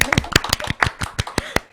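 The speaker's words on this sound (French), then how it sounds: "On peut s'applaudir." A few people clap together after a local radio program segment, sharp separate claps in an uneven rhythm, close and fairly loud, with no talk over them.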